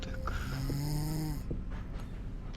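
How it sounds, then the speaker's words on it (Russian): A person snores loudly in a dark horror game set in a train carriage, one long droning, rattling inhale that fades out, heard up close over a steady background hum. "вообще храп меня так сейчас напугал"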